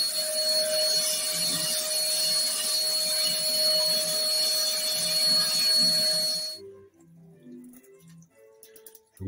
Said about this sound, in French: On va réaspirer les crasses qui sont tombées autour